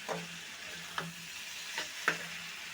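Cucumber ghonto frying in a pan with four short scraping stirs spaced about a second apart, over a steady low sizzle, heard close and alone.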